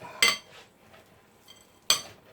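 Utensils clink against a bowl twice while ingredients for a lamb rib fillet dish with herbs are stirred, two sharp close metallic strikes with quiet scraping between.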